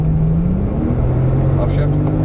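Porsche Turbo S engine pulling hard on a race track, a loud, steady drone that rises in pitch across the clip, with a speaking voice faintly mixed in.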